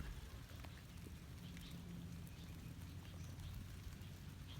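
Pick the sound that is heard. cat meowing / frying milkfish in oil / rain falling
rain falling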